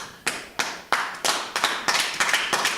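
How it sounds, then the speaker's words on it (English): Audience at a comedy telethon show clapping, starting as a few separate slow claps that speed up into a quicker rhythmic clap, moderately close, with no other sound. "Why are you guys clapping?"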